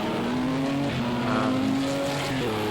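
At Spa-Francorchamps in Project CARS 2, a GTE-class race car brakes hard as an LMP2 car passes. Engine tones drop and shift, with a loud, close, continuous roar and a brief pitch change near the end.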